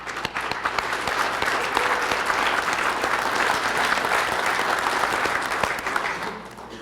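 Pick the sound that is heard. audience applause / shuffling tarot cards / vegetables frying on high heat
audience applause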